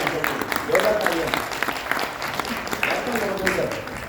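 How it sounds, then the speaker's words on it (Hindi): A crowd at a public gathering breaks into loud applause, with sharp individual claps standing out from the wash. Voices call out intermittently over the clapping. "जोरदार तालियां, जोरदार तालियां"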